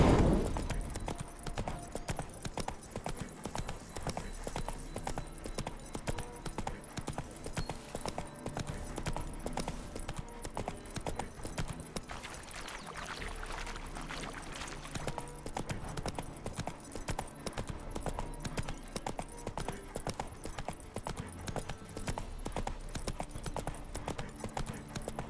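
Horse hooves clip-clop steadily in The Witcher 3 for about 25 seconds, a continuous near rhythm of footfalls with game ambience and an occasional faint whinny underneath.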